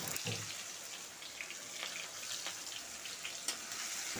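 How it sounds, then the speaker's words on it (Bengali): Finely chopped onions fry with cardamom and cinnamon in a pan, a soft continuous sizzle with faint scraping stirs scattered through, fairly quiet and free of speech. "পেঁয়াজটা দিয়ে নাড়াচাড়া করে বেশ খানিকক্ষণ ধরে ভেজে নিতে হবে"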